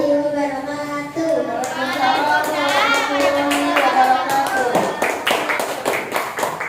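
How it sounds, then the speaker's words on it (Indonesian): Schoolchildren clap after a group presentation in a classroom, a loose scatter of sharp hand claps that builds up gradually, with children's voices chattering alongside. "Ya, tepuk tangan."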